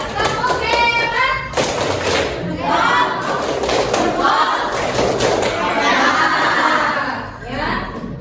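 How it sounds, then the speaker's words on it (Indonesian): Indonesian schoolchildren standing in a classroom perform a rhythmic clapping chant, with bursts of sharp, steady hand claps and group voices ringing out together, loud and close, broken by brief pauses. "Tepuk hebat."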